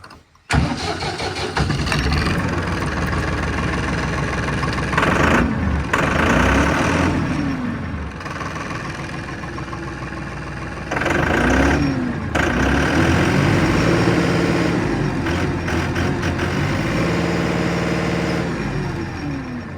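A Massey Ferguson 2630 tractor with a tampered diesel fuel pump starts and settles into a loud, close diesel rumble. It runs steadily, with brief dips and surges in the revs.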